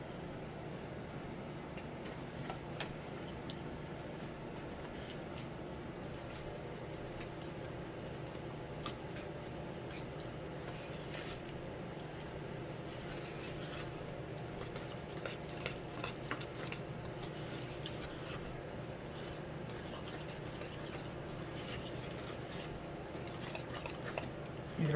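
A spoon stirs homemade sidewalk chalk paint tinted red in a container, giving a steady, soft scraping and clinking that runs throughout at low level against a constant background hum.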